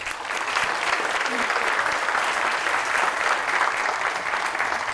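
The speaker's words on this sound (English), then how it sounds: "Another big round of applause for the Marconi" Sustained audience applause at the 46th annual female athletes awards dinner, a dense, steady wash of many hands clapping that holds evenly loud for the full stretch without a break.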